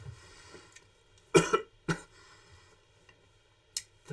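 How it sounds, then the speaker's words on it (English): A few sharp, raspy coughs close to the microphone, two bursts in quick succession followed by a pause and a final short cough. "That post-singing cough had me laughing."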